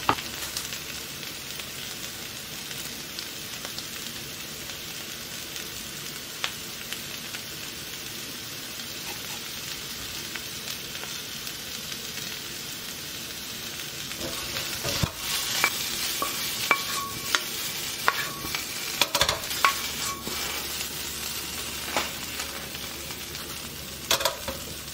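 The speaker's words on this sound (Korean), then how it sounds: "이제 로즈마리와 타임을 감자 위에 뿌려주시고 같이 볶아주세요." Potatoes fry in a pan with rosemary and thyme, a continuous close sizzle with scattered crackles and pops throughout, with stirring sounds, alone without talk.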